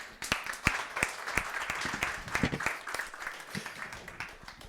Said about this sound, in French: On peut applaudir Christian?